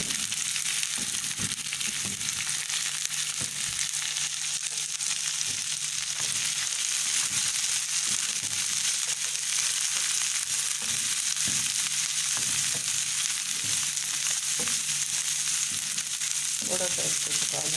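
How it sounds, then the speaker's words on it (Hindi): Chopped vegetables frying in a pot with garlic and onion for chicken and vegetable soup, a loud continuous sizzle with occasional stirring scrapes and no talking. "अब इसमें सारी वेजिटेबल जितनी कटिंग करके रखी सारी इसके अंदर डाल दूँगी"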